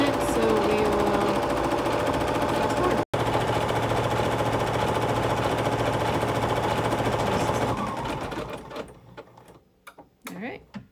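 A computerized embroidery machine stitches a quilting block for a Kimberbell Sweet Land of Liberty cherries pillow, a fast, steady mechanical hammering that runs loud and continuous for about eight seconds before stopping, with a brief talking voice near the end.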